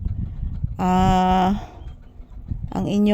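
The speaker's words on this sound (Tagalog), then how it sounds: "nakikinig lang po kami sa mga huni ng ibon dito guys sa loob ng tindahan" A bird gives a loud, sustained tonal call, pauses, then calls again, over low background murmur inside a shop.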